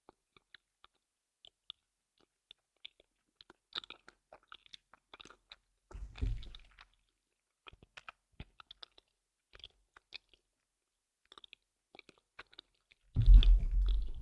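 Halloween candy is chewed close to the mic in a quiet room, with sparse small wet clicks and mouth sounds broken by two louder crunching bursts of biting.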